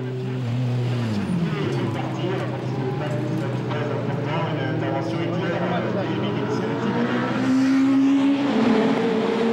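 Mitjet race cars at the Charade circuit in 2011, with loud, steady engine drone and shifting revs from cars passing on track, and commentary running over it.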